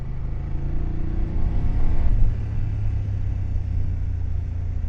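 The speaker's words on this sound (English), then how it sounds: "I do like the sound of that exhaust though, I have to say, and it's standard." BMW F750GS motorcycle on its standard stock exhaust, a low steady engine rumble that swells into a brief rev around the two-second mark before settling back to a close, even idle drone.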